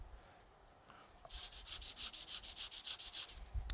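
Foam sandpaper rubbed over guitar fret wires during a refret, heard as a steady run of about fifteen quick, even back-and-forth scrubbing strokes, close and fairly quiet, with no talking.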